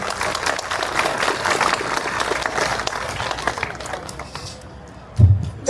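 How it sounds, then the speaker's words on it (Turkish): A crowd at a public gathering of environmentalists and locals in Gediz, Turkey, applauds with dense clapping for several seconds before it fades out, followed by a brief thump. "Bir alkışlayalım arkadaşlar valime."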